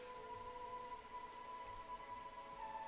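Steady rain falling in the video game The Hundred Line, a soft continuous patter with a faint tonal hum beneath it and no voices.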